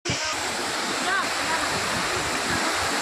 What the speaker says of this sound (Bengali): এই যে পাহাড় থেকে গড়িয়ে আসছে জলটা